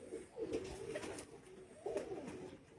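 Pigeons coo in low, rolling calls, two clear phrases separated by a softer stretch, fairly close but quiet against a faint hiss.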